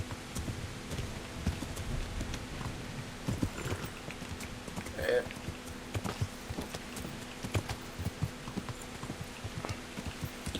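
Horse hooves walk in the video game Kingdom Come: Deliverance, a steady clip-clop of hoofbeats in an even gait that stays fairly quiet over a soft ambient background.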